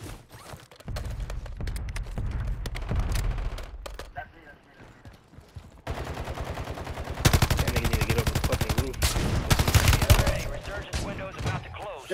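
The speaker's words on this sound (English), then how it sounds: "I'm getting sniped from somewhere, bro" Call of Duty gunfire: scattered shots early, a quieter lull, then heavy rapid automatic fire rising loud and close in the second half, with a voice briefly over the action.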